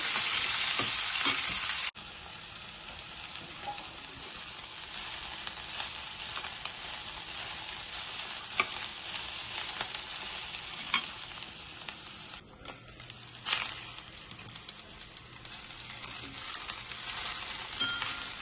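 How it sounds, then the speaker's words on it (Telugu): Curry leaves crackle and sizzle in hot oil in a pan for a fenugreek-leaf menthi kura curry, a steady close frying hiss that dips briefly near the start and again midway, with no talking. "కరివేపాకు, ఇవి బాగా వేగనివ్వాలి."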